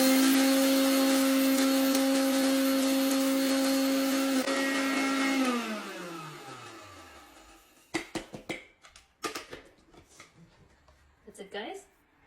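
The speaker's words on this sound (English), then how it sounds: "We're gonna grind this into a coarse" A grinder whirs loudly and steadily as roasted spices are ground into a coarse powder for a Tamil mutton curry. The whir then winds down, and scattered knocks and handling clatter follow.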